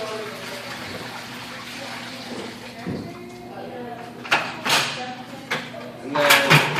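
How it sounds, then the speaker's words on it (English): A bucket of bleach water is slowly tipped out, giving a few irregular sloshing gushes and splashes that grow louder toward the end, with a soft thud among them. "you take the bucket, you slowly dump it out without splashing on yourself"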